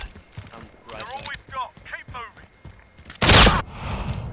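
Shotgun blasts in the Call of Duty: Modern Warfare video game, one loud sharp burst near the end, preceded by quick gameplay clicks and effects while a player talks over them.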